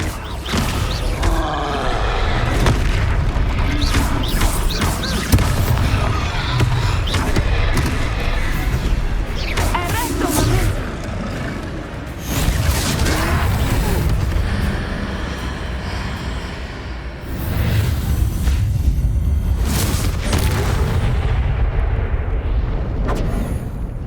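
Descendo slam spell from the Hogwarts Legacy video game during a troll fight, with loud booming impacts and crashing bursts layered over continuous rumbling game noise and music, dense and sustained throughout.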